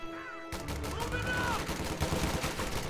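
A leFH howitzer in a World War II strategy game fires with a sudden heavy blast after a quiet opening. Dense rumbling battle noise follows, with scattered shots and a faint whistling tone.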